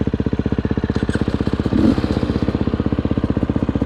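A dirt bike engine idles steadily at close range, a loud, rapid, even chugging pulse with a brief rattling blip midway and no voices.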